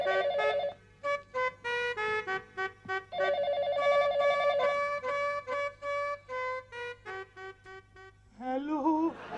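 A telephone rings in repeated electronic bursts with short gaps between them, loud and close, and a brief warbling tone at the end.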